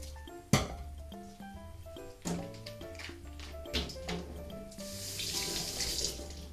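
Water runs from a kitchen tap into a sink while cooking konjac, a steady splashing stream near the mic, broken by a sharp clink early on and a few light knocks of dishes, with the flow growing brighter toward the end.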